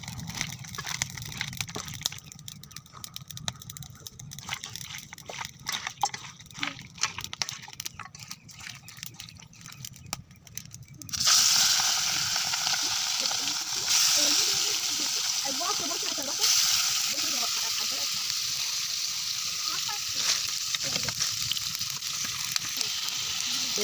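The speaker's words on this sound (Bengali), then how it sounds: "এখন আমি মুরগির মাংসটি লবণ মরিচ দিয়ে মেখে নিয়ে একটু তেলে ভাজে নিব হালকা করে।" Chicken meat coated in salt and chili fries in oil with a steady, loud sizzle that starts partway through, after an earlier stretch of quieter kitchen sounds with a voice speaking.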